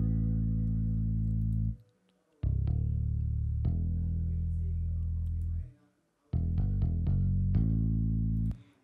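Simple synthesized bass line from a Nexus bass guitar preset in FL Studio, plucked deep notes in sustained phrases separated by brief gaps, clean and prominent with no other instruments.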